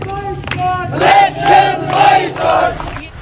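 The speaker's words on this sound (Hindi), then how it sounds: "यहाँ पर लोग इलेक्शन बाइकॉट के नारे लगा रहे हैं इस वक्त" A crowd in Pakistan-administered Kashmir chants election boycott slogans, loud rhythmic shouted phrases repeating about every half second in unison, close and dominant.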